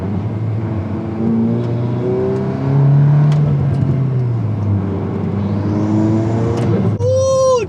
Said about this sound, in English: let's get on the road and test the intake sounds